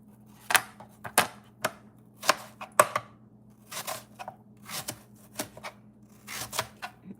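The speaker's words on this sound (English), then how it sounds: "let's cut this in half" An apple is cut in half with a knife, giving a series of crisp, close chopping knocks in an uneven rhythm, about a dozen separate cuts against a faint steady background hum.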